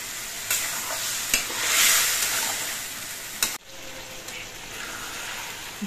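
Potatoes and vegetables simmering in a little broth for a fish chorchori, with a bright bubbling hiss, occasional spatula knocks and a brief louder surge of cooking noise.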